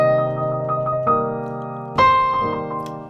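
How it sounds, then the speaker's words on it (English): Piano blues with the right hand trembling rapidly between notes in a tremolo over left-hand chords, with two fresh chord attacks marking the phrase, close and solo without talk. "you already managed to tremolo over the left hand"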